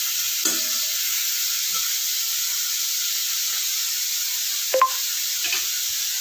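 Prawns frying in a pan give a steady, soft high hiss, broken by a few brief scraping stirs near the start and around the five-second mark.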